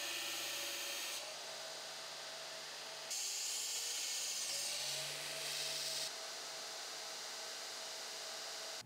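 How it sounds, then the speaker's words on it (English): An angle grinder bevels a steel edge to form a weld groove, giving a steady whining grind that shifts pitch and intensity in several sections, heard alone at a modest level. "So this is still hot coming off the grinder. You can see though, I just beveled down to go maybe a little bit more than halfway into the depth"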